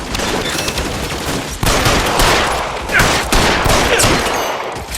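Sustained covering gunfire in L.A. Noire crackles in dense overlapping volleys of rifle and pistol shots, loud and continuous with a few heavier bursts, no voices.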